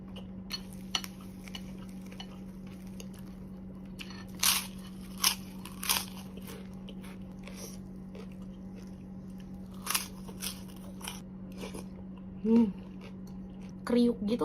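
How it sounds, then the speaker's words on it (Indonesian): Fried Indonesian fish balls (bakso ikan) being bitten, giving several sharp crisp crunches spaced over a steady low hum, close to the microphone, with no talk. "Kriuk gitu loh, jadi nagih dan dalamnya tuh chewy."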